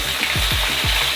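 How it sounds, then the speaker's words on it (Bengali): A big catla fish head fries in hot oil in a pan, a dense, steady sizzle with soft bubbling pops throughout. "দেখুন এইভাবে লাল করে মাছের মুড়োটা ভেজে নেবেন"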